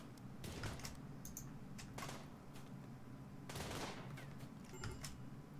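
Gunfire in the video game RimWorld, several faint bursts of shots crackling over a steady low background hum, spaced irregularly across the moment.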